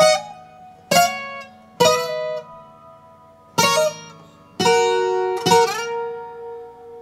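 Requinto guitar picking notes from a song with hammer-ons, six separate plucked attacks in short bursts with gaps between, each ringing and decaying, close and solo.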